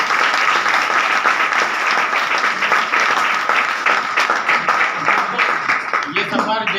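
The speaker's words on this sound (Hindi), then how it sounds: "हमारे दोनों गुरुजी के लिए एक बार जोरदार ताली" Loud, sustained applause from an audience at a motivational speaking event, dense clapping throughout that starts to thin near the end as a voice comes in.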